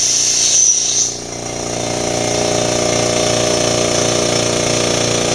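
A Makita MAC700 Big Bore 2.0 HP air compressor runs steadily up close, its loud, even motor-and-pump drone dipping briefly near the start before settling back into a continuous hum as pressure builds.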